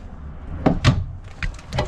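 Bunkhouse drawers in a Starcraft Super Lite 311BH RV slide and knock shut, giving a few quick wooden thumps and clacks in a row, close by, with no talking.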